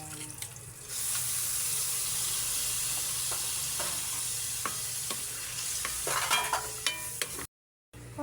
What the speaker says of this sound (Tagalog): magluluto tayo ng atay balon-balonan